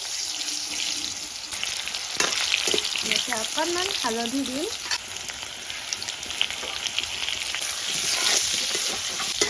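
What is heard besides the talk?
potato pieces frying in hot oil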